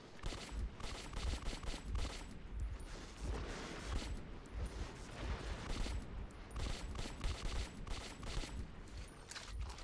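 Rapid gunfire from the video game Metro 2033, dense bursts of shots rattling continuously and loudly for the full stretch with no pauses, harsh and close.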